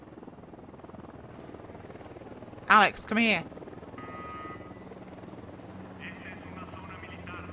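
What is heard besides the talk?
helicopter flying overhead in video game Ghost Recon: Wildlands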